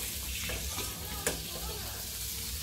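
Egg and potato frying in a pan give a steady, soft sizzle throughout, with a brief sharp pop or clink partway through; no one speaks.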